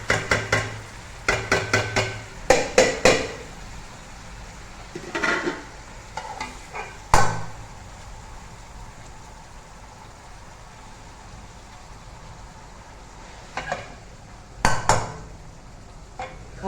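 A spoon stirs minced meat into cabbage in a pan, with scraping clatters and soft sizzling from the frying mixture, in short bursts separated by quieter stretches.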